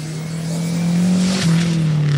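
A racing car roars past close by at a 2018 historic car revival hill event in Valpantena, Italy, its engine note high and sustained with a brief pitch shift as it passes, loud and unaccompanied by talk.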